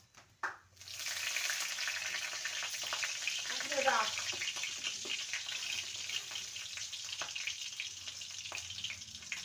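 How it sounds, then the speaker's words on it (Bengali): Nigella seeds and a green chilli hit hot mustard oil with a quick burst, then settle into a quiet, steady sizzle with small pops. A faint voice is briefly heard. "কড়াইতে সামান্য সর্ষের তেল দিয়েছি এবার ফোড়নে দেবো হাফ টিস্পুন কালো জিরে আর একটা কাঁচা লঙ্কা"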